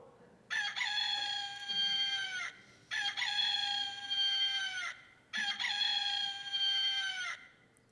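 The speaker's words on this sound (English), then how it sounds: "Before the rooster crows, you will deny me three times." A rooster crows three times in a Good Friday passion drama, each long, loud cock-a-doodle-doo close by and separated by brief pauses.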